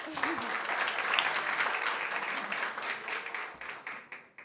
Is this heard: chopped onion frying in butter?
no